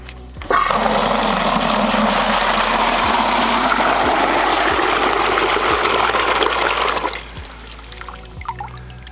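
Rainwater gushes steadily through a gutter's first flush diverter for several seconds, a loud continuous pouring rush that cuts off abruptly, leaving faint drips and light trickling afterward.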